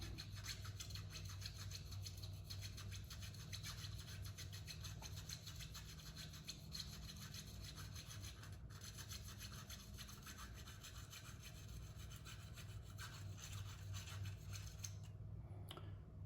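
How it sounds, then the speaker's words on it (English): Metal tool scraping and gouging at a clogged orifice in a Toro lawn mower carburetor, a steady fine rasping rub that continues evenly and close throughout over a low background hum. "So let's see if we can gouge it out, or if we're gonna have to drill it out."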